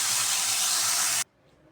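Chicken pieces seasoned with pepper and salt brown in a hot pan, giving off a loud, steady sizzling hiss that stops abruptly and leaves near silence.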